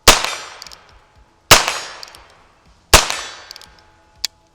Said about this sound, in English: let's shoot these big torso targets